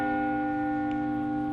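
A single sustained bell tone rings out steadily and loud, its long even resonance filling the moment, evoking the assembly bell of medieval Novgorod in Russia.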